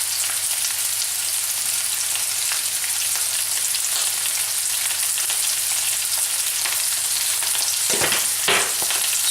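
Sliced courgette fries in a hot pan with basil and oregano, a loud, steady sizzle and crackle, broken near the end by a couple of brief stirring scrapes.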